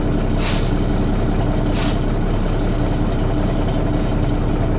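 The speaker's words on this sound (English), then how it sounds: "10 presses of the air brake before we've got low air." Air brake on an International S2500 truck: two sharp hissing releases of air, about a second apart, over a steady loud engine idle rumble, close by and with no voices.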